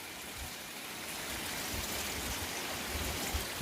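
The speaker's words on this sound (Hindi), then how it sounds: "बारिश भी हो रही है।" Steady rain falls with a dense, even hiss and patters, with no voices, on the Kedarnath pilgrimage route during the monsoon month of Sawan.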